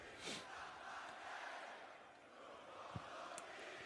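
London wrestling crowd at a SmackDown event chanting in unison, a broad, steady roar of many voices filling the arena at moderate level, with a brief sharp shout near the end.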